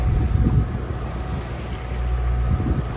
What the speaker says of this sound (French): Et on appuie au moteur parce que sinon avec les vagues on avance presque pas